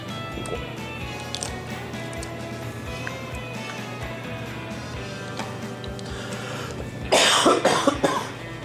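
Coughing from a model builder at a workbench while assembling a 1/12 scale Italeri Abarth 695 SS kit, a short harsh burst near the end after a stretch of quiet background.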